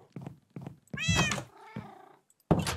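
A pet cat at home meows several times up close, short soft calls followed by a longer drawn-out meow and a sharp final cry, with no talking.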